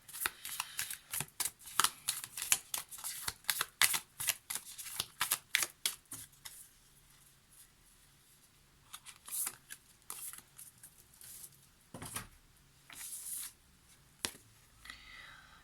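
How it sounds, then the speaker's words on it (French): Oracle cards being shuffled for a tarot draw, a close run of rapid papery riffles and taps that pauses midway, then returns in scattered bursts with soft handling sounds. "on termine ce tirage avec une carte issue de l'oracle de la présence animale et"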